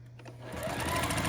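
A sewing machine starts up and runs stitching quilt fabric, its motor whirring and rising into a steady, fast chatter close by.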